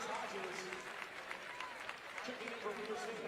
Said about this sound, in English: Crowd gives Stepp a round of applause.